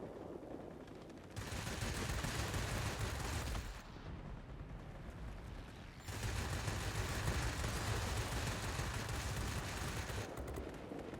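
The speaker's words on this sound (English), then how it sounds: "I believe it's two 20mm cannons on this thing." Sustained rapid fire from an aircraft's twin 20mm cannons in a video game, long roaring bursts, dense and loud, broken by a short pause before firing resumes.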